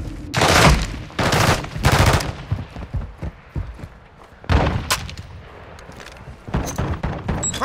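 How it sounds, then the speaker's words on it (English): Gunfire in Call of Duty: Modern Warfare II, close bursts of rapid shots in several clusters, loud at first and then quieter, with scattered rounds between the bursts. "Taking fire!"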